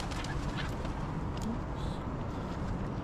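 Geese or ducks at a country park campsite honking and calling in a flock, repeated overlapping honks over a constant rushing background, moderately close.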